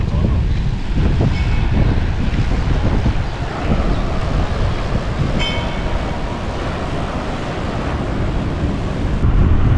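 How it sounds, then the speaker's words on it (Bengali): Rough, churning sea at Diu beach gives a continuous broadband roar of surf, heavily mixed with gusty wind buffeting the microphone, loud and steady throughout. "আর সামনে সমুদ্র তো মানে আগের থেকে একটু বেশি উত্তাল হয়ে গেছে।"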